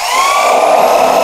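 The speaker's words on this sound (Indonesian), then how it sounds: "Setelah itu baru ininya dibor juga satu." A power drill bores into a lightweight steel roof truss during roof framing work, a loud steady high whine held close and unbroken throughout.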